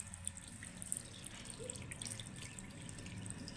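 Water from a tap runs and drips steadily while a cat's face is washed, a soft continuous splashing trickle close by with small irregular drips, no talking.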